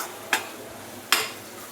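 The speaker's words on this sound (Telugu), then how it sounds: "వీటి మిశ్రమాన్ని బాగా మిక్స్ చేయాలి" A spoon stirs a spicy egg curry mixture in a pan over a faint sizzle, with two short scraping strokes about a second apart.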